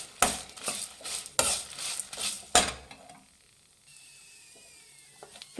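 Bisi bele bath spice mix frying on a low flame, stirred with a spoon: a few sharp scraping and clinking strokes against the pan, then a quiet soft sizzle.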